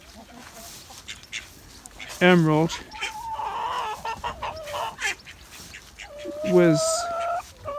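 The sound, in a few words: ducks quacking and chickens clucking in their run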